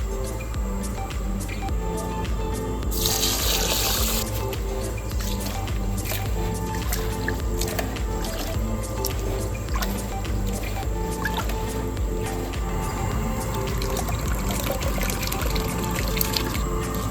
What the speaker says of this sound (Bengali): জল ঢেলে নেব। চাল ভালো করে ধুয়ে নেব।